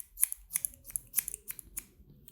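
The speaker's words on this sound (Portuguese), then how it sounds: "Eu só preciso cortar esse aqui, ó." Scissors snipping through large, curly hair, a quick run of about eight close, crisp cuts with short pauses between them.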